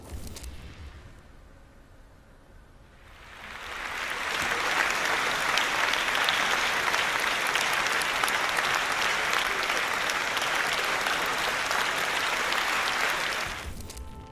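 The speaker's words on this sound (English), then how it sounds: "The Slovenians' performance was greeted with polite but thunderous applause." Loud, dense applause from a large audience after a Slovenian band's performance in North Korea, swelling in after a quiet opening and holding steady for about ten seconds before cutting off.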